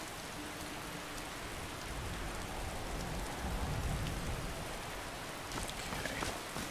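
Steady rain in the video game Skyrim pours down in a broad, even hiss with scattered droplet patter, close and continuous, with no voices.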